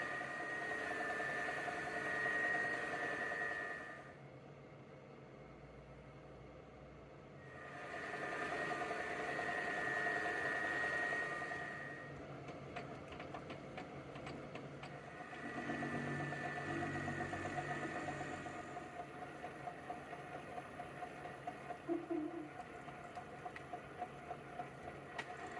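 Lathe cutting 3/8 hex bar into small return crank pins, a steady mechanical hum with motor drone and rhythmic whirring that drops away briefly and returns, continuous throughout at moderate level.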